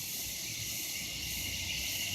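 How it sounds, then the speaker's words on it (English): Dense chorus of cicadas at dusk just after sunset, a steady high buzzing drone that stays constant and fairly loud throughout, with some faint low rumble underneath and no voices. "The cicadas are strong in their song right now."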